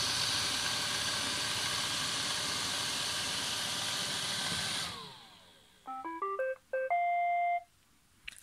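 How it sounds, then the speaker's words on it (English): A Roomba 770 robot vacuum plays its short electronic docking tune: a quick run of clear beeping tones, heard alone and close after steady whirring from the machine fades out. "Lovely Roomba tune, and it's docked and now it's charging."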